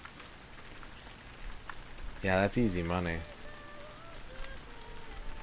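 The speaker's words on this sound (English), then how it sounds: "there's a lot of soothing rain in this game." Steady rain patters down in the N64 golf game PGA European Tour, a soft, even hiss running through the whole stretch while someone talks briefly over it.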